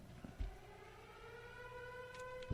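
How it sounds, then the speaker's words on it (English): A civil defense emergency siren, the kind sounded before a hurricane, holds a steady wailing tone throughout, heard alone and fairly distant with a few faint knocks around it. "That's an emergency siren, like before a hurricane."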